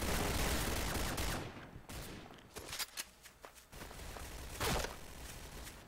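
Gunfire in the video game Point Blank: a dense burst of rapid shots, then scattered single shots and short bursts with brief pauses between.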